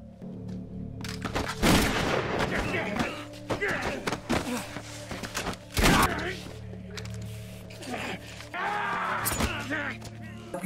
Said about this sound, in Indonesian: Baku tembak antara dua orang bermusuhan ini terjadi.